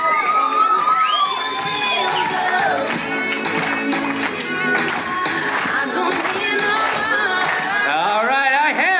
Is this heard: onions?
no